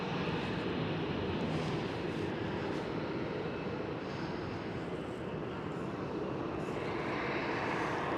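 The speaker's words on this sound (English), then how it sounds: "Right here, El Al 737. Towards Tel Aviv, taking off on runway" An El Al Boeing 737 taking off on runway 24 at Amsterdam Schiphol, a loud, steady broadband jet roar that holds constant throughout with no speech.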